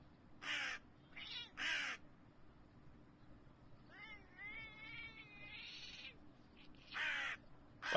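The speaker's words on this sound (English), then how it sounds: "Fuck you, Crow." A crow caws several times, harsh and fairly close, in spaced bursts, mixed with cat-like meowing cries in the middle and a faint steady hum underneath.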